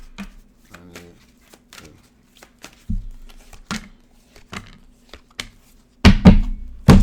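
Tarot cards are shuffled in quick riffles and taps, with soft thuds between, ending in a louder burst of handling close by.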